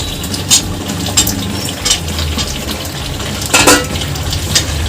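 Fried new potatoes go into a pan of mutton curry. A steady low sizzle runs throughout, and close, sharp clatters of a spoon against the pan come at irregular intervals. No one speaks.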